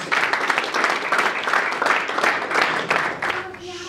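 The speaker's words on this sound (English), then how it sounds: "please a round of applause" A crowd applauds steadily at a boxing promotion press conference, a dense wash of clapping that holds for a few seconds before starting to thin out at the end.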